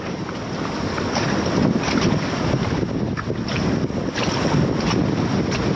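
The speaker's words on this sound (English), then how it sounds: "Waves coming up, here comes one." Ocean waves rolling up onto coastal rocks near high tide, a loud, constant rushing surge heavily buffeted by wind noise on the microphone.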